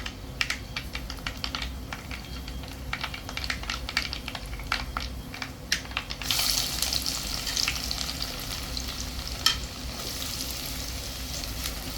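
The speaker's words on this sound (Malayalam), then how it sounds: "കടുകിട്ടിട്ടുണ്ട്. പച്ചമുളക് ഇടുകയാണ്." Green chilies and mustard seeds sizzling in hot sesame oil for a Kerala-style tuna pickle, a steady close crackle with sharp pops and spattering that grows louder and denser partway through.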